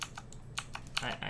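Quick clicks of a computer keyboard's tab key during PC play of a horror game, four or five close taps in a little over a second over a low hum and faint background voice.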